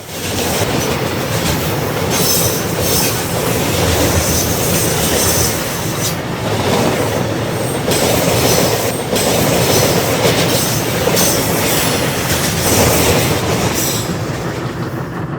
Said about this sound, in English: Soon after, the freight train arrives.